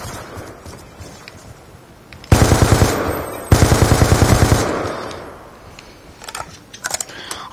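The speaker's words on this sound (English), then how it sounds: "I shot him about a half a full mag there, guys." Machine gun fire in Call of Duty Black Ops II plays as two loud sustained automatic bursts of rapid shots, each lasting about a second, with quieter game ambience and scattered sounds before and after.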